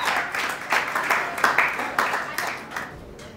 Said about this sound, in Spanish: los recibimos con un fuerte y caluroso aplauso